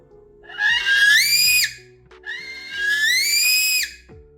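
Two long, rising shrill whistles from a blown duck call imitating a wigeon drake, each about a second and a half, loud and close with a short gap between.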